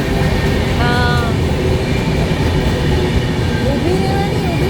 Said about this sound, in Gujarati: ટ્રેન છે પેસેન્જર ટ્રેન છે